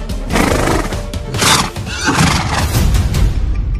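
A horse neighs loudly and repeatedly as a sound effect in a spoken supernatural tale, the stalled horse refusing to move, with faint clip-clop and dense layered whinnies filling the short stretch.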